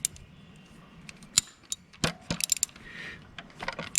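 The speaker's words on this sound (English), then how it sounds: "It takes an H5 metric hex wrench attached to this 3/8 inch ratchet drive." A 3/8 inch ratchet drive with an H5 metric hex bit works the distributor hold-down bolt on a 1972 Mercedes-Benz 280SE 4.5, giving close, irregular metallic clicks and sharp taps with brief pauses between them.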